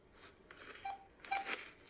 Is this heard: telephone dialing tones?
yes